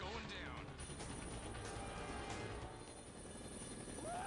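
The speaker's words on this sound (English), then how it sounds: "Man, I like this helicopter." Helicopter flies in a video game, a steady close rotor and engine drone running throughout with a few brief game effects, while a person talks over it.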